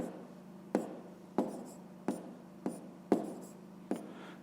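A pen writes a math answer on paper in a quiet room, with six evenly spaced, close scratching strokes, each ending in a soft tap against a low steady hum.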